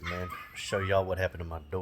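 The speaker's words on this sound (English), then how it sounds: "I'm sure y'all can hear the puppy dog in the house barking." A puppy barks and whimpers indoors in short, high yips, close and clear beneath someone speaking.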